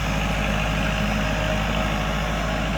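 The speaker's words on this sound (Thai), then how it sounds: "รถไถคูโบต้ารถไถส้มครับ L 5 0 1 8" Kubota L5018 tractor, used for rotary tilling wet rice paddies, running with a steady, loud, close diesel drone and a low rhythmic engine throb, constant throughout with no voices.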